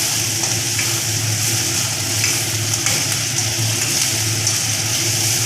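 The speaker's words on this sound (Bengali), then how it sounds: "আদা আর রসুন পেস্ট করে রেখেছিলাম সেইটা দিয়ে এবার এটাকেও ভালো করে আমি ভাজা করে নেব" Ginger-garlic paste fries in hot oil for a rohu and poppy seed curry, giving a loud, steady sizzle that holds evenly throughout.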